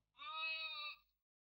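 A young goat bleats once, a single steady nasal cry of about a second, clear and close against a quiet background.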